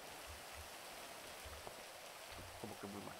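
Rain in the FiveM roleplay game, a GTA V setting: a steady, dense hiss of rainfall with soft pattering, fairly quiet and continuous, with a few faint low thumps near the end.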